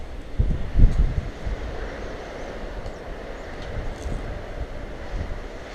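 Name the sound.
strong wind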